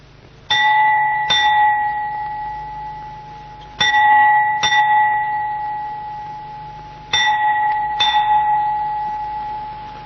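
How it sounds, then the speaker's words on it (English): The bell of a prison at noon strikes in pairs of metallic clangs, six blows in all across three spaced pairs. Each long ringing tone fades slowly between strikes, and no one talks. "The jail bell struck 12"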